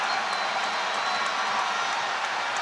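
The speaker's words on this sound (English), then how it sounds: "The audience thinks it's not luck, it's skill. You can hear it from the cheer." A dense crowd at a badminton match between Lee Chong Wei and Kento Momota roars and cheers in a loud, unbroken wash of noise.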